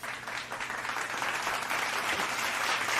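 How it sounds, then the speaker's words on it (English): A live studio audience applauding steadily, a dense, even wash of clapping that holds from start to finish without talk on top. "It's a more dignified clap."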